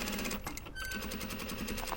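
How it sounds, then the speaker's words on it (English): A sewing machine stitching the collar seam of a blouse, a close steady rapid mechanical whirr with a brief slowdown partway, running continuously without talk. "And we're going to stitch all the way down right to the fold here"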